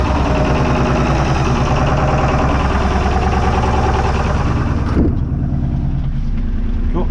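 An old marine diesel engine runs at idle after a cold start, loud and close with a steady pulsing chug, and the higher clatter drops away near the end as the revs come down.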